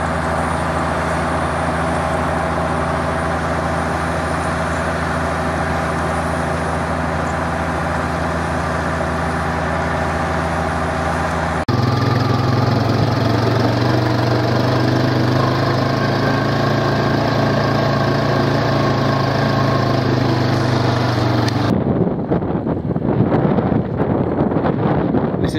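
A 6480 tractor engine powers a slurry stirrer on a farm during slurry spreading, a loud steady drone with heavy wind buffeting on the microphone. The engine tone shifts partway through and drops away near the end.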